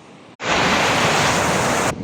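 Rushing water from a river wave in Cheddar roars as a loud, steady broadband wash close to the microphone, starting abruptly and running continuously for about a second and a half.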